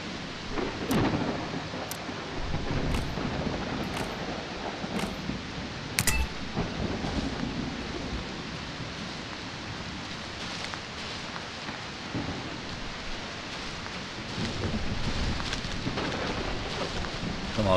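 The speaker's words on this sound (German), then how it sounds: "Kriegst Donnerwetter sogar noch." Steady rain and rolling thunder from a thunderstorm in the video game Bodycam on the Tumblwood map, a dense continuous wash with a few sharp crackles and low rumbles swelling near the start and end, with no voices.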